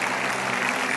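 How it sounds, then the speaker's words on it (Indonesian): Audience applause at a motivational talk, a steady wash of clapping heard mid-flow for about a second, no voices. "Berikan tepuk tangan sekali lagi untuk Bapak Andri."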